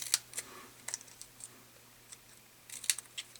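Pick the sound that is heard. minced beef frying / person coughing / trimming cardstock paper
trimming cardstock paper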